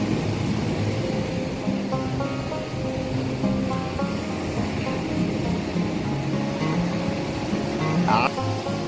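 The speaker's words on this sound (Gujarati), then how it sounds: "કેટલું જોરથી પાણી ભટકાય" Rough sea surf crashes against the shore beside an old seaside temple, a steady loud roar of churning water that continues throughout, with a voice talking over it.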